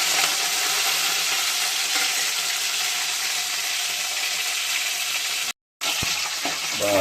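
Whole spices, coriander, curry leaves and mint fry in hot oil for an aloo egg curry, a loud, steady sizzle that holds continuously, cuts out briefly, then resumes with a faint stir and clink.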